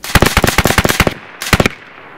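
A BIN TAC S45 semi-auto air rifle fires a fast string of about a dozen sharp, loud cracks close by, then a short pause and two or three more shots.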